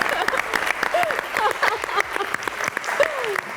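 Studio audience applause on a talk show, clapping in bursts mixed with voices talking and brief whoops over it.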